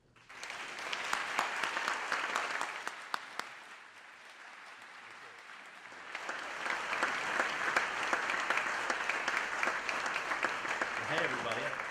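An audience breaks into applause to welcome speaker Robert Egger at a liberal arts forum. The clapping is sustained and dips briefly before swelling again.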